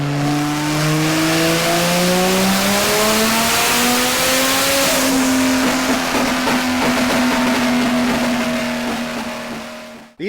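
A 2JZ-engined car strapped to the Kinetic Motorworks dyno revs hard, its loud engine note climbing steadily in pitch, then holding a high, sustained roar before cutting off abruptly at the end.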